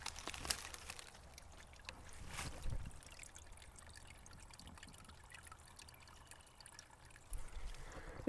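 Faint water trickles and dribbles softly and steadily down under fallen deadwood, with occasional rustling bumps, heard quietly outdoors on a hike.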